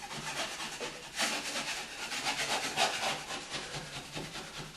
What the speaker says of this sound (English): there's a couple high edges where I can just scrape that off and kind of contour exactly how I want it into the wall